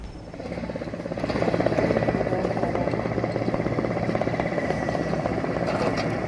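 A steady rotor-driven drone with rapid low chopping, swelling slightly after the first second and then holding constant, like a helicopter hovering not far off, over a landfill fire at TPA Jatiwaringin.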